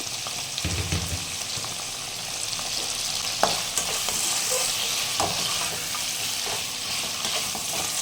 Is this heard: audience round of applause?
no